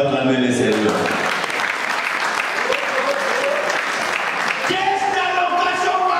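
A church congregation applauding to acclaim the Lord, sustained loud clapping from many people with voices calling and singing over it.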